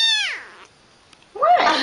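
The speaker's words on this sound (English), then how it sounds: "Meow." A cute cat gives two clear, close meows, one fading off at the start and a louder, rising one after a short silence.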